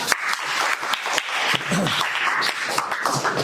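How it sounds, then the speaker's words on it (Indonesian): A small group in a teacher training class claps, a short, uneven patter of hand clapping with distinct individual claps standing out, close and moderately loud. "Tepuk tangan."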